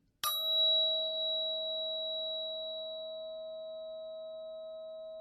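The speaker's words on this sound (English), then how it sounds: "let's just listen to a few of these other solfeggio frequencies. Here's 639." A single struck tuning fork at 639 Hz blooms into a pure, steady ringing tone that slowly fades, clean and sustained with nothing else around it.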